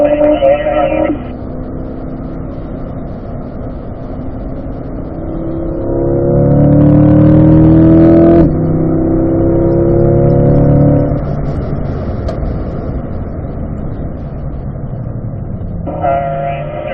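A race car engine pulls hard through a turn on a circuit, its close, steady drone swelling and rising in pitch as the car accelerates out of the corner, then settling back into a sustained roar.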